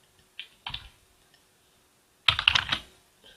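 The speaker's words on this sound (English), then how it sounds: "We can move forward then to premises and start typing in our replies." Typing on a computer keyboard comes through as a few isolated key taps early on, then a quick close burst of rapid clicking, in an otherwise quiet room with no talk.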